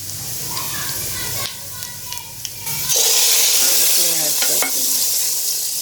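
Cumin seeds sizzle and crackle in hot oil as a tadka for dhaba-style chana dal, a steady loud frying hiss that swells after a few seconds, with faint stirring and a voice murmuring underneath.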